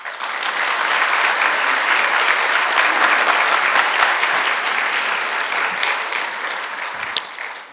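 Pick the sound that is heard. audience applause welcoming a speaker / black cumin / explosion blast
audience applause welcoming a speaker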